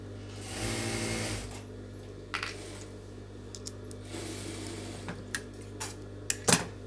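A sewing machine stitches a folded blouse lining in one short run near the start, followed by quiet handling clicks and taps and a sharp knock at the end.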